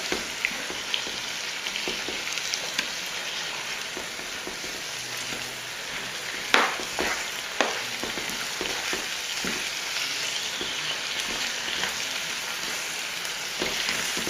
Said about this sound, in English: And then just let the whole thing fry